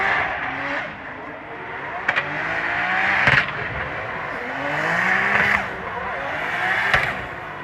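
A drift car sits on the start line heating its tyres at a drift practice, its engine revving in repeated surges with bursts of tyre squeal and skidding, loud and steady through the whole stretch.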